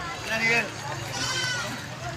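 Goats bleat among a crowd at a livestock stockyard sale, several wavering cries rising over constant background chatter and people talking nearby.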